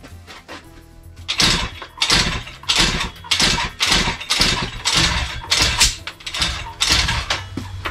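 A Honda Dio AF-18 scooter engine with an intermittent spark fault is kicked or cranked repeatedly, giving about nine rough, loud, evenly spaced bursts that catch briefly and die, close up with no talk.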